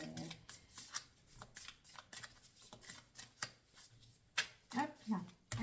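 A deck of tarot cards is shuffled and cut in a string of quick riffling and slapping bursts, close up and fairly quiet, with a voice speaking at times between them.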